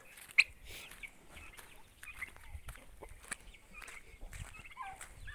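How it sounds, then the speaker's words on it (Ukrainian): Turkey poults and chickens on a small farm peep and cluck softly in a quiet yard, scattered short calls with one sharper chirp early on, fairly faint and without talking. "Ось наші індичатка старші."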